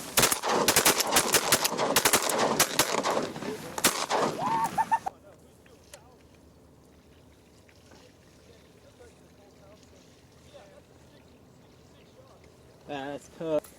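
Shotguns firing at birds during an Oklahoma bird hunt, a rapid volley of close, loud blasts over the first few seconds, followed by quieter ambience with voices talking and a faint bird call near the end.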